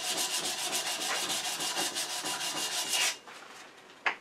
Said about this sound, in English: I'll grab whatever scrap of sandpaper I have handy that's anywhere from 150 to 240 grit. Just kind of rub it down a little bit.